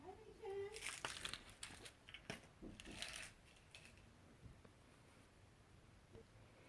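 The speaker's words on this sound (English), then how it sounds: "And I'm going to use my scissors and cut some of that tail here." Scissors snip the yarn tail of a crocheted baby blanket, a few quick crisp cuts up close alongside soft rustling and handling noise, quiet overall.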